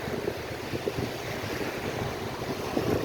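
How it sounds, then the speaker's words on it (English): Surf rolls in on Fort Myers Beach, Florida, as the tide comes in, heard as a steady moderate wash of water with some wind rumble and no one speaking. "the waves are are going beyond the seaweed, so it's an indication that the tide's coming in"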